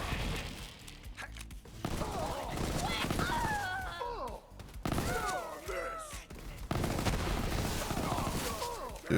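Gunfire in Borderlands 3 rattles in repeated bursts among whooshing and warbling effects, with a voice talking over the shooting.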